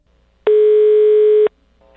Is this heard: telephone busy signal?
yes